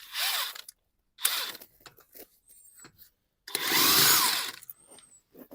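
An impact gun spins off the nuts on a 2021 Mercedes GLE front brake in short bursts of whirring and rattling, with quiet gaps and small clicks between them.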